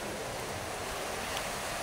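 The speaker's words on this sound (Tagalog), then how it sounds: "Dagat oh." Sea waves washing onto a shore, a steady broad roar of surf with some wind noise, no voices.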